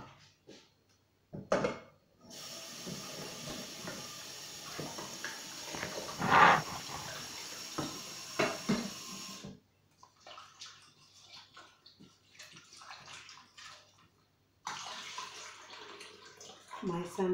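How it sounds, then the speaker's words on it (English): Running water splashes and gushes steadily while something is washed at a tap, loud and close, breaking off and resuming in stretches. "I'm just going to wash."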